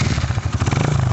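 A Honda CG motorcycle with a 150 engine, just started on its electric starter, runs loud and close. It has a fast, pulsing low engine chug with a clattering edge and no talk over it.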